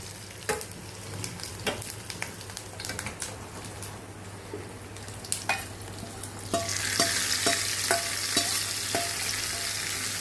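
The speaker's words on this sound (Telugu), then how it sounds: "ఇప్పుడు పప్పులో యాడ్ చేసుకుంటాను" Hot tempering sizzles as it is added to cooked dal, with frequent sharp spoon clicks and stirring against the pot, and the sizzle surges louder and hissier partway through.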